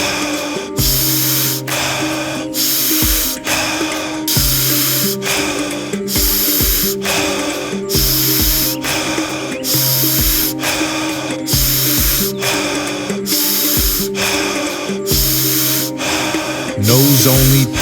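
Wim Hof-style power breathing outdoors in nature, a person drawing deep breaths in and out through the mouth in a steady, rhythmic cycle of about sixteen strong, close, hissing gasps and exhales with no talking.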